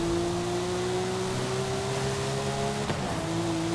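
Porsche 911 cabin sound on a wet road: a steady engine drone with a held tonal hum under a wash of tire and road noise, constant and close, with no talking.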